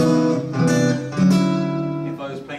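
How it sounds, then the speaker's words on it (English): Guitar strings are picked upward with a thumb pick, giving a run of bright, ringing notes with clear attacks that sustain close and alone. "what I do is I hold my hand here and I pick upwards from the strings like that."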